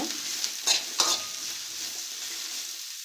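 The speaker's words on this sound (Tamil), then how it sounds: "கொஞ்சமாக எண்ணெய் ஊற்றி இப்படி கிண்டி விட்டுருலாங்க அது பாட்டுக்கு இந்த பக்கம் வதங்கிட்டு இருக்கட்டுங்க" Onion and garlic sizzle in a little oil for tamarind chutney, a steady close frying hiss with two brief scraping stirs near the start.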